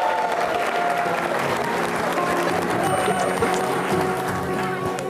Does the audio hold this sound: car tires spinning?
no